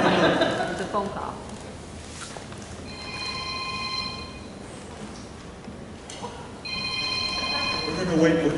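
A telephone rings during an online bird-watching workshop meeting, two separate bursts of bright electronic ringing separated by a pause, fairly loud over a hissy room background.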